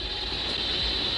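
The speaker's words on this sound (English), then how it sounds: "But the horn antenna they're using picks up constant interference." Constant background static picked up by a radio telescope's horn antenna, a steady, even hiss with a low rumble, unbroken and featureless throughout.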